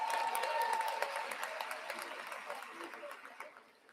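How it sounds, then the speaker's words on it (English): An audience applauds graduating statistics students at a university commencement, a burst of clapping that fades steadily over a few seconds, with faint murmuring beneath. "Let's give them a round of applause."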